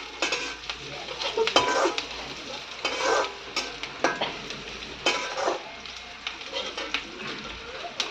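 Jackfruit seed curry sizzles in a pan while a spoon stirs it, giving repeated scraping strokes and metal clinks over a constant frying hiss, close and fairly loud.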